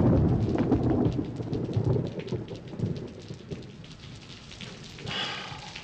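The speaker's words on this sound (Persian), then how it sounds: "امشب هم که هوا بارونه" Steady rain pouring at night with a low rumble of thunder rolling underneath, a dense continuous hiss that fades slightly before a brief brighter burst near the end.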